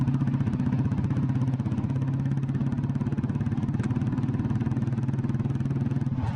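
An old Royal Enfield Bullet motorcycle running through its silencer exhaust, a loud close steady thumping beat with a rhythmic low pulse and mechanical clatter, no voices.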